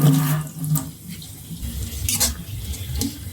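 Tap water runs over chapa shutki (pressed dried fish) as it is washed clean for a bhorta, a steady close splashing stream with brief louder gushes.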